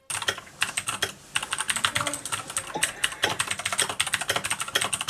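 Rapid typing on a Keychron K4 mechanical keyboard, a steady run of loud, close, clacky keystrokes with only a couple of brief pauses, heard alone.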